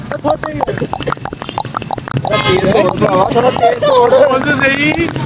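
A voice imitates a galloping horse with rapid rhythmic clicks and clops, then breaks into a whinnying neigh, loud and close.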